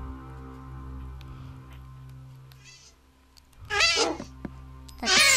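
A pet cat meows twice, two short and fairly loud calls close by, after a quiet stretch filled with low steady hum.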